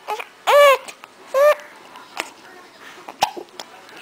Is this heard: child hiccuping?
yes